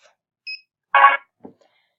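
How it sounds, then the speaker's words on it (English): A library book scanner's hold alert: a short tone blip followed by a louder, harsh buzzing beep, then a faint trailing blip, all in otherwise near silence. "Another reason you might hear the angry beep is when a book gets returned"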